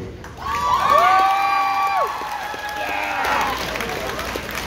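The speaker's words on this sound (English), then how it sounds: "This is where you cheer." At a school pep rally, a crowd of students cheers and whoops loudly, high shouts and squeals rising together and sustained, then tapering slightly before swelling again.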